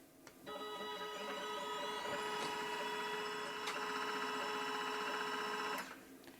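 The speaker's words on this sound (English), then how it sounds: "I'm going to do the next 500 winds again at 900 RPM" A CNC guitar pickup winder spins a coil at 900 RPM, a steady whining motor hum that starts, holds evenly for several seconds, then stops.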